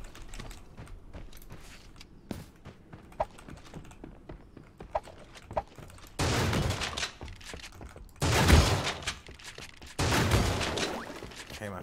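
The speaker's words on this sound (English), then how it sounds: "Okay, my first shot missed then." Sniper rifle shots in the battle-royale game Creative Destruction: three loud, sharp bursts ring out in the second half over a steady patter of clicking keys and light clatter.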